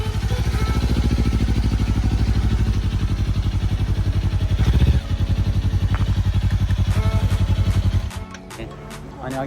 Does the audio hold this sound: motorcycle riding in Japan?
yes